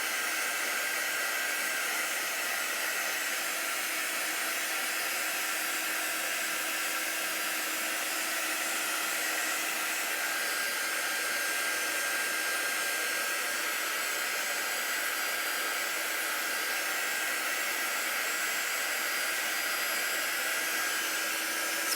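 Heat tool blowing hot air to heat-set ink on a fleece sweatshirt, a steady close whooshing fan hiss held continuously without pause.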